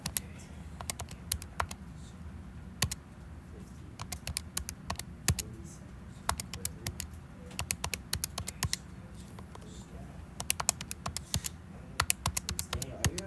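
Numbers are typed on a computer keyboard in a classroom, with irregular bursts of close, crisp key clicks and short pauses over a low steady room hum.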